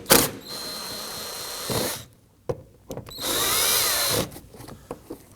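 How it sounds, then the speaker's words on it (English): A power tool drives out 10mm screws on the front exterior door handle of a 2015-2024 Nissan Murano, giving two loud whirring bursts with a rising motor whine, separated by quiet gaps and light clicks. "That's going to expose two 10mm screws here. You can use a Phillips head screwdriver or a power tool."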